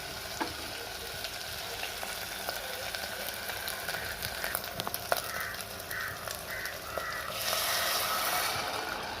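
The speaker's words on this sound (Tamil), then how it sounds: "இது நல்லா வதங்கட்டும்." Kolli dried fish curry sautés in a pan with a steady close sizzle and occasional scraping stirs, crows cawing faintly in the background near the end.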